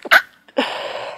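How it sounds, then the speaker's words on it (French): A single sharp human sneeze bursts out near the microphone, followed by a breathy exhale and a soft rustle. "je vais éternuer"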